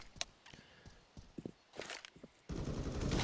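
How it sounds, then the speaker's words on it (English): Bursts of distant gunfire in a competitive esports match, a few scattered shots followed by a rapid rattling volley, with footstep-like taps in between. "We hear plenty of gunfire on the other side of the map"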